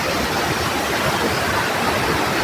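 A waterfall on a slippery mountain hiking trail roars as a loud, steady rush of water, constant and without pause.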